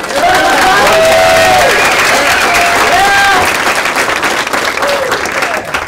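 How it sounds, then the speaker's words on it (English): A live audience at an improv comedy showcase claps and cheers loudly and continuously, with a few voices calling out over the applause before it gradually thins. "give yourself a round of applause for coming out and supporting live"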